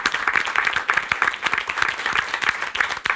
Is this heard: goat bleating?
no